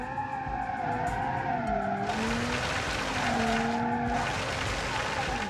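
A 300 HP lawnmower drifts around a roundabout in BeamNG.Drive, with a steady engine drone and long wavering tire squeals that rise and fall.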